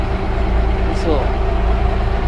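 A Japanese fishing boat's engine runs at a steady idle, a continuous low rumble close by with a brief higher whine over it.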